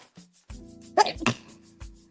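A single close, sharp human sneeze bursts out mid-clip amid the quiet of a sewing session, with a short burst of breath right after it and faint room sounds around it.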